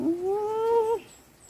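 A single drawn-out cat meow with a rising then sustained tone, close and clear, lasting about a second before fading into quiet room noise.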